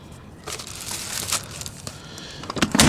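Plastic crinkles and rustles up close in irregular bursts, with a few sharper crackles near the end.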